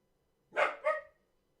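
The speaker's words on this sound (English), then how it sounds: "What are we barking at?" A dog gives two quick barks close by, the second slightly softer, then quiet.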